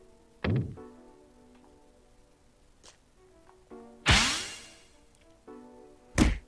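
Bombs struck in the Peglin pachinko roguelike: three sharp synthetic thunks with tonal ringing tails, spaced apart over quiet background game music, the middle hit heaviest with a whooshing burst.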